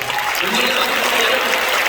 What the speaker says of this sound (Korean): 여러분 참 박수해 주시고